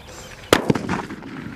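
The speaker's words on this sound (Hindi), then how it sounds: "तो अब हमारे पास बजा है इस टाइप का अनिल की सूतली, तो इसको भी लगाते हैं आग और देखते हैं ये कैसी चलती है।" An Anil brand sutli firecracker goes off during Diwali firework testing, one sharp loud bang followed by a quick secondary crack and a fading rumble, with no talk.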